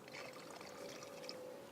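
Boiling water is poured into a hot water bottle during a cold, snowy April. The pour is a soft, steady gurgle that runs quietly throughout.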